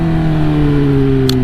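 A Kawasaki ZX10R motorcycle fitted with a new exhaust holds a close, loud, steady engine drone with strong low harmonics that sag slightly in pitch.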